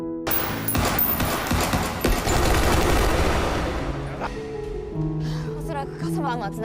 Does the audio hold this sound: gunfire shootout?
yes